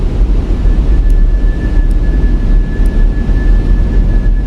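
Airbus A321SL cabin on final approach into Atlanta runway 09L in a crosswind, with a steady loud roar of airflow and engines and a faint thin tone running through.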